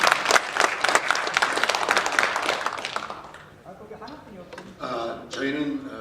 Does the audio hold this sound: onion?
no